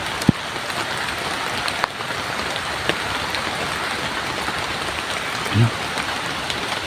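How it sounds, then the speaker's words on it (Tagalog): Heavy rain pours down in a dense, steady hiss with occasional sharper drops and taps. A voice murmurs briefly low in the mix. "Sa ibang lakas ng ulan"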